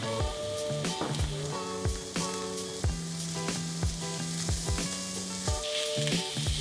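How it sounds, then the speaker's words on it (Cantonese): Mushrooms sizzle steadily in a hot wok with oil and garlic over medium heat, with bright frying crackle and repeated scraping strokes of a spatula as they're stirred. "就可以加入蘑菇炒香"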